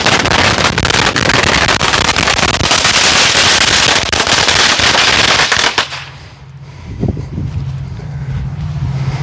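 A 500-count roll of X-bombs firecrackers goes off outdoors in a dense, loud, continuous crackle of rapid bangs for about six seconds, then cuts to quieter wind and background rumble.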